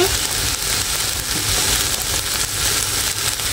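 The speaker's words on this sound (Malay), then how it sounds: "Kita tumis di sini." Ingredients sauté in a pan while cooking nasi lemak with basmati rice, giving a loud, continuous close-up sizzle with no talking.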